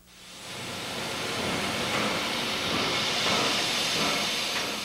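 A once-dead steam locomotive runs on rails with a steady, loud, broad hiss and rumble that builds in and holds for several seconds, with no voices over it.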